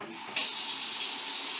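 Kitchen tap running at the sink, a steady rushing stream of water that starts abruptly and continues evenly at close range.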